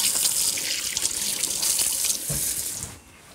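A kitchen sink tap in a Swedish rental runs steadily with a bright, hissing splash, close and fairly loud, then cuts off near the end, leaving a quiet room.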